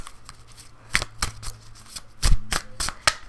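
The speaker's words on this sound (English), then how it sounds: "While I shuffle" A deck of cards is shuffled during a tarot-style card reading, giving a series of sharp, crisp riffling snaps and flicks in an uneven rhythm. It sounds close to the microphone with no talking.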